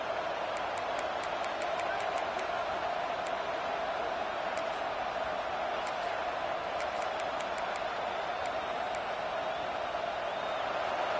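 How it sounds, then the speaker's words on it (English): A packed football stadium crowd roars loudly and steadily to back its defense, a dense unbroken wall of noise with faint high whistles and shouts rising above it. "Listen to this crowd just shaking the girders of this place, trying to help their defense."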